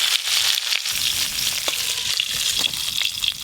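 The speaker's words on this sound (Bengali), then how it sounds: "মাছের মাথাগুলো ভাজা করছি, তাতেই কি সুন্দর সেন্ট বেরিয়েছে" Hilsa fish heads frying in oil, a loud, dense crackling sizzle that runs steadily close up, with occasional sharper pops and spatters and no voices.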